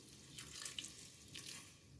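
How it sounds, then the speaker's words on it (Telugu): A small glass of water is poured over jaggery in a pan, giving a faint, brief splashing trickle in a quiet room. "ఒక చిన్న గ్లాస్ వాటర్ అయితే వేసుకుందాం,"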